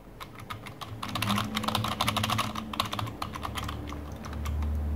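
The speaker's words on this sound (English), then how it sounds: "Let's try out the sound of the keys again." Typing on a Logitech MK270 wireless keyboard: a rapid run of close, clicky keystrokes in bursts over a low background hum, fairly loud and with no voices.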